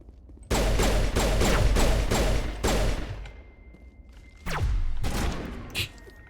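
Gunfire breaks out in the game Mass Effect 1: a rapid run of five loud, evenly spaced shots, then a pause, a sharp whooshing crack, and one more short burst near the end.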